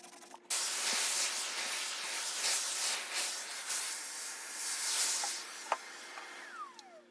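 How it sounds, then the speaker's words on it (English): Hand sanding the edge of a painted mid-century dresser with 150 grit sandpaper, a close, steady scratchy hiss of rubbing strokes lasting several seconds, then a brief tap and a fading squeak. "I'm going to hand sand it to remove them. I'll go over it with 150 grit"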